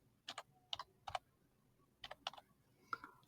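Short bursts of typing on a computer keyboard while entering a search: quick clusters of light key clicks, separated by brief pauses, close and fairly quiet.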